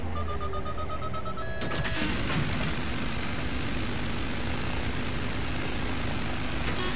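A video game helicopter engine drones steadily with a thick rumble, with a sharp burst of noise partway through; no talking.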